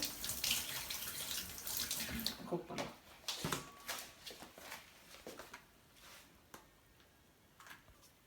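Crab pieces are washed under a running tap, the water splashing softly and unevenly, growing fainter as it goes, with a voice speaking quietly over it.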